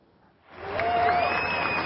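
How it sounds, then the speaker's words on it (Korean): Crowd applauding and cheering for a speed skating World Cup 500m winner on the podium. Brief quiet, then applause swells and holds steady as a dense wash of clapping. "중국의 장홍이 시상대 가장 높은 곳에서 환호를 받습니다"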